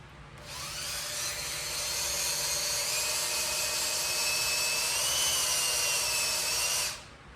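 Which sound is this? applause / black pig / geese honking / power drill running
power drill running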